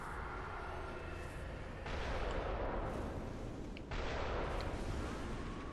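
Enemy cannon fire booms in the video game Bloodborne, a dense roar of heavy blasts with two louder surges, filling the soundscape without speech.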